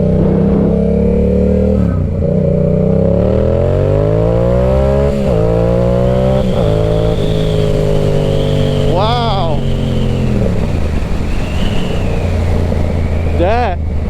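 Yamaha R7 supersport motorcycle pulling hard at near full throttle, its engine note climbing through several gears with brief dips at each shift, loud and close with steady wind rush.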